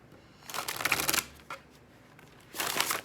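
Tarot cards being shuffled by hand, two brisk riffling bursts separated by a pause with a soft tap between them, close and fairly quiet.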